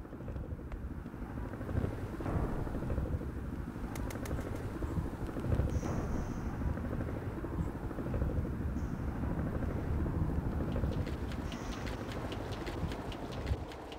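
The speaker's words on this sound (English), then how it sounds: "this helicopter's kind of giving me problems" A helicopter in the video game HROT, giving a steady low rotor rumble and drone throughout, with faint intermittent chirps and clicks on top and no talking.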